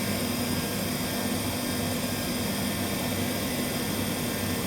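An Indesit tumble dryer with its drum and motor running, giving a loud, steady, unbroken whooshing hum with a low drone underneath and no voices.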